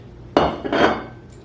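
Two thrifted dishes clink and clatter as they are handled, two sharp, close knocks of ceramic or glass a moment apart with a faint tap after, no talking.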